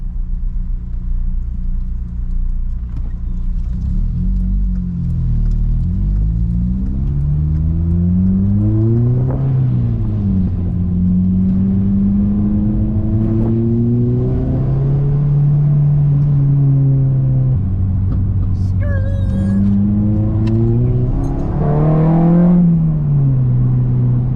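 A turbocharged Hyundai Veloster engine idles and revs repeatedly, its pitch climbing and falling through several loud, steady throttle blips close to the car with a constant rumbling drone underneath.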